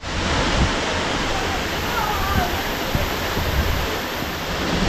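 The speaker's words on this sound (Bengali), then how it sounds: "এটা হচ্ছে কালিম্পং এর একটা অদ্ভুত ঝর্ণা, দারুণ সুন্দর উপর থেকে জল পড়ছে।" Changkhola waterfall near Kalimpong sends down a steady, loud roar of falling water, an unbroken broadband rush that holds even for the whole stretch without pause.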